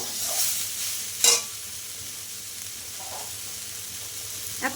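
Water spinach (kalmi shak) frying in a pan, a steady soft sizzle with occasional sharp scrapes and clinks of stirring, close and alone.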